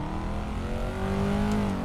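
Corvette engine in a racing video game, revving up with a rising tone as it accelerates, steady and moderately loud throughout with no voices.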